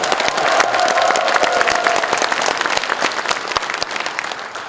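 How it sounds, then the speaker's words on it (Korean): Loud, dense clapping from a party rally audience welcoming five leadership candidates at a joint campaign speech event, with a few sharp individual claps standing out and the sound easing slightly toward the end. "이 5분의 후보에게도 저보다도 더 큰 그 환영과 성원의 박수를 한번 보내주시면 고맙겠습니다"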